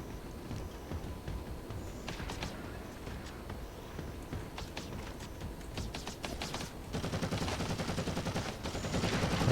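Rapid gunfire from Warhammer 40k: Eternal Crusade, a steady dense rattle of shots with sharp bursts that grows louder and heavier toward the end, no talking.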